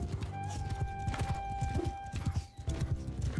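Rapid clip-clop of horse hooves galloping in the video game Mount & Blade II: Bannerlord, a fast rhythmic series of thuds with a brief neigh, up close and loud.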